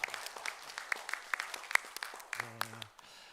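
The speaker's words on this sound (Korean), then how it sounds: "하나님께 영광의 박수를 드리겠습니다." A church congregation claps in praise, a fairly light, scattered patter of hands that fades out near the end as a soft organ chord enters.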